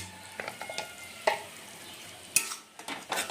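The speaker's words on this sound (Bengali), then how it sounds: "আর এখন সব মশলাগুলো ভালো করে কষিয়ে নেব যতক্ষণ এখান থেকে তেল না ছেড়ে দেয়" Ground spices with Kashmiri red chilli powder and a splash of water fry in oil for koi fish tel jhal, a soft sizzle under intermittent spatula scrapes and clinks against the pan.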